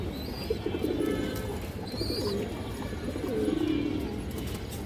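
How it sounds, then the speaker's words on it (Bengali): Domestic pigeons, a home-bred tagged flock with a hen among them, coo steadily and close by, with low rolling calls rising and falling over a continuous murmur and a few faint chirps. "এটা আমার ঘরের কবুতর দর্শক"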